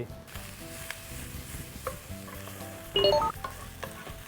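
Steady sizzling of shallots, garlic and tofu frying in a hot pan, with stirring scrapes and a brief louder burst of hissing partway through.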